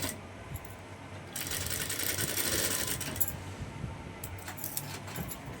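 A sewing machine stitches a farshi shalwar, starting with quiet handling clicks before a close, rapid mechanical run of stitching that carries on with some rattling and brief pauses.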